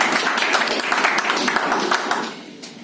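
Audience at an office anniversary event giving a short burst of clapping, moderately close and steady, fading slightly toward the end.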